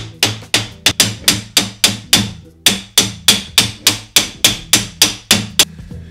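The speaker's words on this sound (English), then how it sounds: "So I'm using a hammer and I'm trying to hammer this rod through" A hammer drives a metal rod through a plastic holder while building an Anet A8 3D printer, giving about sixteen loud, close, evenly spaced blows in a steady rhythm.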